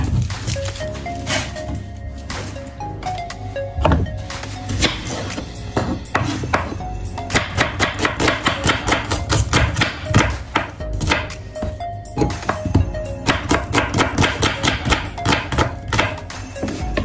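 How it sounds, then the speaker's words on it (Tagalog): Knife chopping onion on a cutting board, starting with a few scattered cuts and then settling into rapid, steady, close-up chopping that continues to the end. "Slice naman tayo ng sibuyas."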